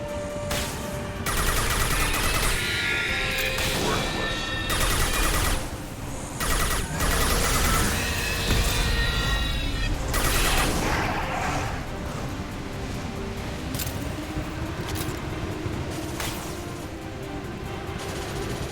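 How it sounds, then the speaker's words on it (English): Sustained gunfire in Mass Effect 2, with dense bursts of shots and impacts running through most of the stretch, loud and busy over game ambience, easing toward the end. "What are you shooting at?"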